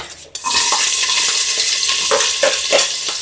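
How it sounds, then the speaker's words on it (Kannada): Chopped onions for pulao hit hot oil and fry in a pan, a sudden loud sizzle that settles into a constant hiss punctuated by several scraping stirs of a spoon. "ನೆಕ್ಸ್ಟ್ ನಾನು ಇವಾಗ ಇದಕ್ಕೆ ಈರುಳ್ಳಿ ಹಾಕ್ತಾಯಿದ್ದೀನಿ."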